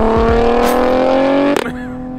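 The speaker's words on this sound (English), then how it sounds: "you can't deny the sound of a straight six" A straight-six car engine at a tuner car showdown, heard as a loud, steady high-revving drone held for about a second and a half before it cuts off abruptly, leaving a lower idle-like hum.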